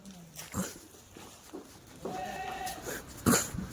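Several short bleats from Kathiawari goats gathered together, one loud nearby cry near the end, amid faint background rustling.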